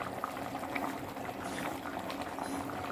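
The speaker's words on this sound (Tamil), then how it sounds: "நல்லா கொதிச்சிருச்சு" Chicken curry (kozhi kuzhambu) boiling in a pot gives a steady, low bubbling simmer that runs evenly throughout at moderate volume, with no voices.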